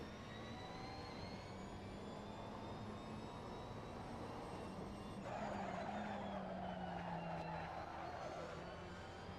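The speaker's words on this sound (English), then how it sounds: "this car sounds awful anyway. It's a really, really boring engine note." A GT3 race car engine in Assetto Corsa on the Barcelona circuit, heard as a faint, steady droning engine note with a shift in pitch midway, played at low game volume.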